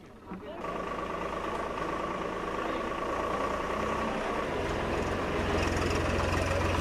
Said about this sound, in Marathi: या ट्रॅक्टर रॅलीच्या दरम्यान स्वतः राहुल गांधी यांनी ट्रॅक्टर चालवला